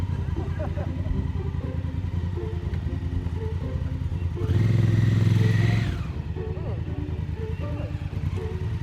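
An adventure motorcycle engine idles with a steady rumble, then revs on throttle alone with no clutch for about a second and a half before settling back to idle, recorded nearby.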